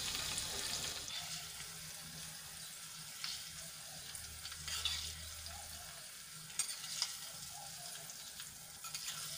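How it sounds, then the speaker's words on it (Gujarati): A hot tempering of white sesame seeds and cumin is poured over dhokla, giving a soft, continuous sizzle and crackle with a few sharper pops, fairly quiet and steady throughout. "અને ગરમા ગરમ વઘારને આપણે ઢોકળા ઉપર એડ કરી લઈશું."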